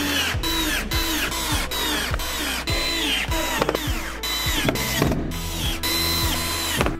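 A power screwdriver drives self-tapping screws into a white double bed frame, whining and rising in pitch through repeated short bursts, close and loud.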